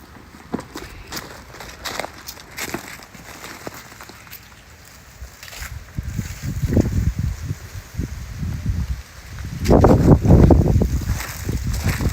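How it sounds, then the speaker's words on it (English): Wind blows outdoors across a lawn being overseeded with grass seed, a steady low rush with gusts that swell louder toward the end, and no talk over it. "The issue is we have some wind coming in, so it's blowing my seed all around."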